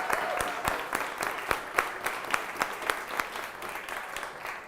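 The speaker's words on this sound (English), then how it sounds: "Give yourself a round of applause" An audience applauding at a fiftieth-birthday show, steady dense clapping with some sharper individual claps standing out, fairly close and sustained throughout.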